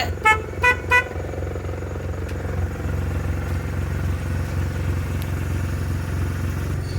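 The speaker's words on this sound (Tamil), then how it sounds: "ஆரன் பார்த்தீங்க அப்படின்னா எக்ஸ்ட்ரா ஃபிட் பண்ணி இருக்குதுங்க" An extra-fitted horn on a 2004 Maruti Suzuki 800 gives three short, loud toots in quick succession, followed by the car's low engine idle rumbling steadily nearby.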